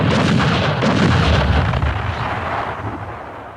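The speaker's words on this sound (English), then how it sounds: "The communist artillery dramatically reveals its presence, pounding the unsuspecting French on the valley floor below." Heavy artillery fire at Dien Bien Phu in 1954 sounds as a loud, sustained booming roar with deep rumbling bursts that fade gradually toward the end.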